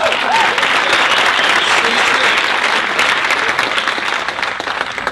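A crowd gives a loud, dense round of applause for a volunteer picked from the audience at a live show, sustained and close, with voices mixed into the clapping.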